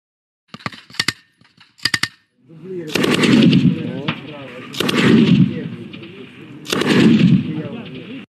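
MG42 machine gun firing in a few short crackling bursts, followed by three louder, longer sustained rattling bursts with heavy booming body, close and alone.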